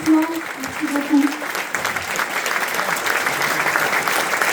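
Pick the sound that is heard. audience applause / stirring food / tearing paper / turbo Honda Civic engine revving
audience applause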